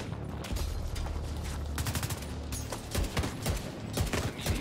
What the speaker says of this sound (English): Point blank with this gun, and it's taken that many shots to kill him.